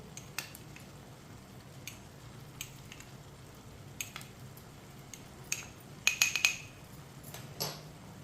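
Rice being stirred in a cooking pot while making sweet zarda mutanjan, with soft scraping and a cluster of light metallic clinks of a spoon against the pot, faint and intermittent over a quiet background.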